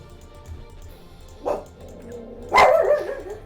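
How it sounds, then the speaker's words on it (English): A dog named Buster, with a toy held in his mouth, gives two muffled barks at sounds of doors opening and closing indoors: a short one first, then a louder, longer bark about a second later. "I love how he can still bark like that even though he has a toy in his mouth."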